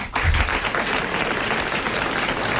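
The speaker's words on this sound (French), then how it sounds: "vous applaudissez Monsieur Gémier de Paris" A French television studio audience in 1988 breaks into steady, dense applause that starts abruptly and continues evenly, filling the room without talk over it.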